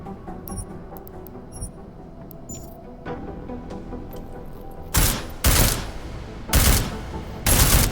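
Suppressed pistol fire on a shooting range in Deus Ex: Mankind Divided, four sharp muffled shots spaced about a second apart after quiet clicks and handling sounds, with no voices.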